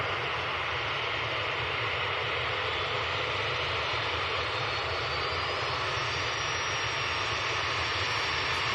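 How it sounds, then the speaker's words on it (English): A Falcon 7X business jet on final approach at Manchester Airport makes a steady, broad engine roar with a faint high whine that rises slowly, constant and fairly loud, with no speech. "there's a Falcon 7X on finals"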